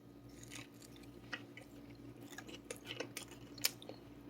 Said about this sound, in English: don't know if you can hear the crunch, but you got a little crunch just on the edge, not in the middle